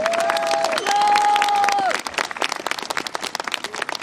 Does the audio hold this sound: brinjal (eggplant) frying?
no